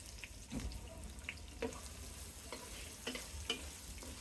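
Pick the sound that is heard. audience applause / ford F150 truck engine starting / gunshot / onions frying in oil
onions frying in oil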